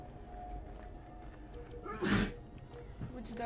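A single sharp sneeze bursts out midway through a quiet Assassin's Creed Syndicate game scene, standing briefly above a low background rumble.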